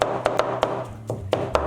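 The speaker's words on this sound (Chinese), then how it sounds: "里面加点葱末和姜末剁在一起" Cleaver chopping pork mince together with chopped scallion and ginger on a board, a series of sharp, close, uneven knocks with short gaps.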